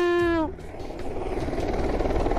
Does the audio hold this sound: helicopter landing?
yes